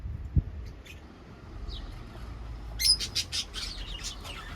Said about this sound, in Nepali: यस्तो राम्रो राम्रो चरा छ।